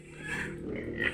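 Pigs on a farm in Negros Occidental, Philippines give a short, quiet grunting oink, faint and close.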